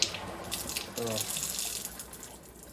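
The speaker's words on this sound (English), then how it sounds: "Now I turn on the water." Water runs from the tap of an Aquatonic AQ 500 water ionizer in a steady broadband hiss, fairly quiet, with a brief louder gush about a second in.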